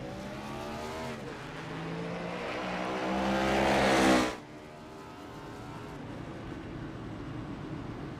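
A race car engine revs on pit lane at Talladega in a stock car racing game, a harmonic drone building steadily louder to a peak, then cutting off sharply into a low idle rumble, with no talking.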